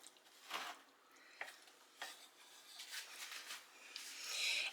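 A spoon stirs a crust mixture of almond flour, butter and sweetener, making soft, quiet scraping and tapping strokes that come in an irregular rhythm close by, with no talking.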